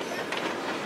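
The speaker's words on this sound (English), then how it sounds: "They'll spend days clinging to cargo trains as they grind through southern Mexico up toward the U.S. border." A cargo train grinds along the rails through southern Mexico, a loud, steady rumble and clatter of wagons filling the brief moment with no voices.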